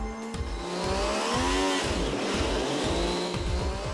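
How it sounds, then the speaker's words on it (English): An MV Agusta F3 motorcycle engine built with early production parts runs on a factory test bench, its loud harmonic whine climbing and dipping in pitch as it is revved, over a repeating low pulsing throb. "the engine which is running is one of the first engines made with production parts"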